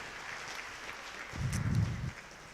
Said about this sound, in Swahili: kama imeeleweka mpigie Bwana makofi because of that